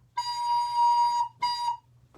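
A recorder plays a sustained half note followed by a shorter quarter note at the same pitch, clear and close with a brief gap between them, with no talking.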